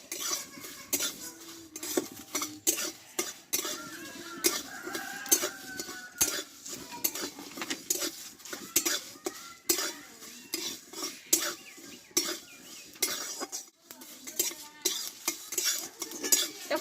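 A utensil scrapes and clatters around a pan in quick, repeated stirs, with a faint sizzle of spices frying underneath.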